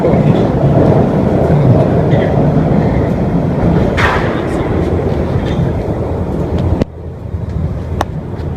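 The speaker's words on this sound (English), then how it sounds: "Bakerloo line 1972 stop leaving Piccadilly Circus" A 1972 stock London Underground Bakerloo line train pulls out of Piccadilly Circus station, a loud continuous rumble and rattle of wheels and motors close by, with a brief squeal midway and the noise dropping off abruptly near the end.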